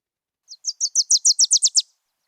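A Wilson's warbler song plays from a phone app as a rapid series of about ten bright, high chips. The notes grow louder and faster, then stop abruptly, with silence on either side.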